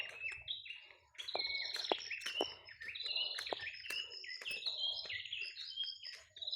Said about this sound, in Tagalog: Ang ingay ng maliit na ibon.